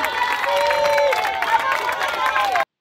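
Crowd noise with cheering and scattered clapping greets riders arriving at Espace Mayenne on a cycling ride, with excited voices and calls mixed through the din before it cuts off abruptly.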